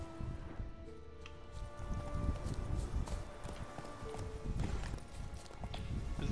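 Steady clip-clop of horse hooves in The Witcher video game, a continuous walking rhythm of hoof beats over a low ambient music bed, with a faint whinny.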